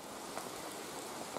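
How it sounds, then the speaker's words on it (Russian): A heavy rain downpour hisses steadily and densely outdoors, with scattered louder drops striking nearby surfaces and no voices. "ливень."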